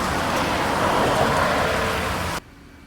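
Steady rain pours down during a morning storm at a Louisiana house, a dense continuous hiss that holds loud and even before cutting off abruptly near the end.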